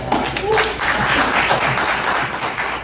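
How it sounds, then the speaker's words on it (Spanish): Audience applause for a talk on UFO landings in Mexico, a short, loud burst of clapping from a crowd with some voices mixed in. "Un aplauso."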